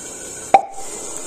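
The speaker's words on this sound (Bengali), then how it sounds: "দিয়ে দিলাম জল" Water splashes into a pan holding turmeric and chili powder while pumpkin flower curry is being cooked, heard as a single short plop up close, with no talking.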